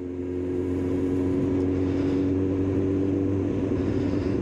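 A Kawasaki ZX9R motorcycle being ridden to a bike night, a steady loud engine drone with a constant low hum and no revving, heard close from the rider's position.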